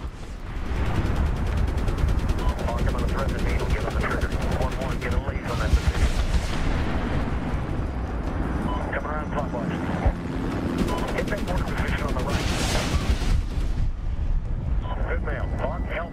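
Gunfire rattles through a Medal of Honor battle in dense, continuous bursts of automatic fire, backed by heavy booms and the rumble of aircraft. It is loud and relentless, with voices talking underneath.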